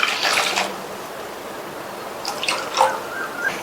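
Water splashes and trickles into a pan of jaggery in two short bursts, with gentle dripping between, close by and fairly soft.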